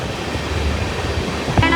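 A passenger train runs along the tracks near Rayadurga Junction, a loud steady rumble and rush of wheels and wind heard from on board, with a brief clank near the end.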